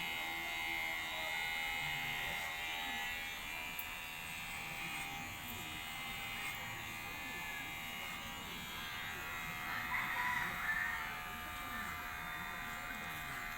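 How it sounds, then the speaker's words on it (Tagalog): Electric hair clippers buzz steadily while a man cuts his own hair, a constant thin hum at moderate distance with soft talk and background noise underneath. "Siya lang po yung nagupit ng buhok niya."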